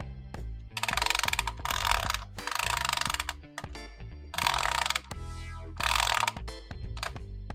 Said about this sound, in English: it's locking up. I don't know if it's the diff or it could be something in here with my gears